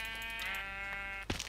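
A video game sheep bleats once, a short nasal tone with a clear harmonic buzz, followed by a brief thump at the end.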